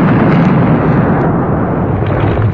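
Loud, dense rumbling blasts from airstrikes on Taliban forces in Afghanistan roll continuously without pause, heavy low booms merging into one sustained roar with no voices.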